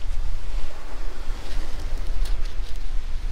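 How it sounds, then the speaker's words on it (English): Waves breaking and wind buffeting on Christchurch Beach on the UK south coast, a dense continuous roar of surf with rumbling wind noise on the microphone, loud and close, no voices. "I'm on Christchurch Beach"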